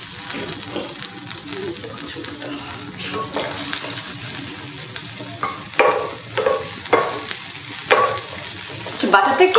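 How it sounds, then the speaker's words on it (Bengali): Butter sizzles steadily in a hot pan on a stove while bread is shallow-fried for a kids' Ramadan dessert, with intermittent clinks and scraping of utensils, close and fairly loud. "আমরা এখন ব্রেডটাকে একটু শ্যালো ফ্রাই করে নেব বাটার দিয়ে"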